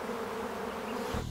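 A big swarm of about 50,000 bees buzzes loudly and steadily right around a person's face, a dense droning hum with no talk.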